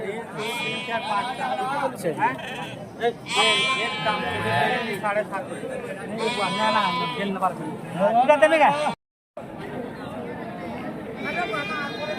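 Goats bleat repeatedly at a busy rural goat market in Padampur, Odisha, loud and close among traders bargaining and a chattering crowd.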